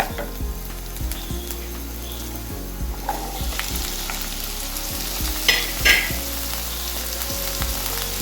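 Steady sizzling of potatoes and onions frying in a pan, with occasional scrapes and stirring clatter, close and continuous without speech.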